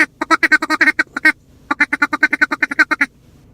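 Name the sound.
duck call being blown, imitating duck quacks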